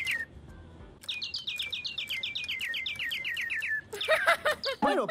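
Two birds in an ice cream shop video game sing a run of quick, bright chirps and tweets, clear and alone, ending in a few louder, sharper calls.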